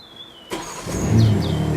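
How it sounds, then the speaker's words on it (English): A brand-new BMW M3 Touring engine cranks and fires up after a short quiet moment, catching abruptly and settling into a loud, steady close-range idle. "When you start the engine on my brand new M3 Touring"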